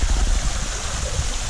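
A swimming pool's waterfall feature in Panama running steadily, a constant close rush of falling and splashing water with no voices.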